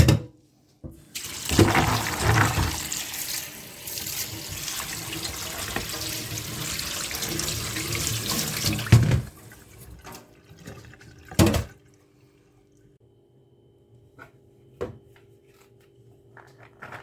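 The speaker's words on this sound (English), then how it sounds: "Next day, drain the chickpeas." Soaked chickpeas drained in a kitchen sink: a loud, steady rush of tap water and draining for about eight seconds, then it stops, followed by a couple of brief clunks and quieter handling noises.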